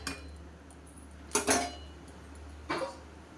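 A lid is set onto a metal rice pot in a kitchen, giving two distinct clanks about a second apart over a quiet room.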